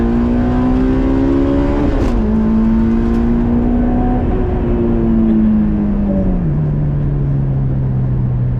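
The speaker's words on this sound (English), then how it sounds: "All right, 10 miles an hour, second gear, floor it." A Honda S2000 accelerates at full throttle in second gear from about 10 mph, its loud, close engine drone holding a steady pitch and then dropping lower near the end.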